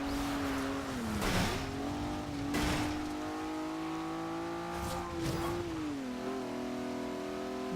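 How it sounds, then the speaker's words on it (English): A Maserati drifting through corners in the racing game Forza Horizon 2: a steady, loud engine whine rising and falling in pitch with revs, with bursts of tire squeal where the car slides. "Drifting around corners."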